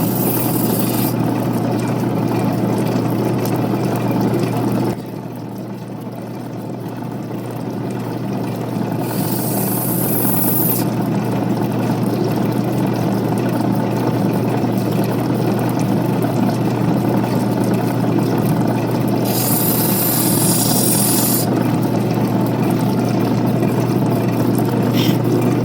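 A wet lapidary wheel sanding an opal gives a steady, loud motor drone with a constant hum, broken by two brief hissing bursts of grinding, with no talking.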